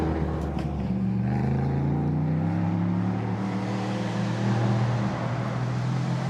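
Stiffly sprung LMP3 race cars at the Lausitzring circuit during a GT Masters weekend, one engine droning loud and steady with gear changes and shifting pitch, another car's engine note underneath.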